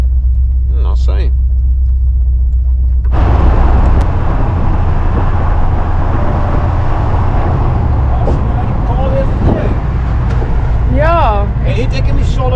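A VW Kombi engine rumbles steadily while driving on Paarlberg, a constant low drone with road noise that strengthens after the first few seconds, with people talking over it and a few brief higher sounds near the end.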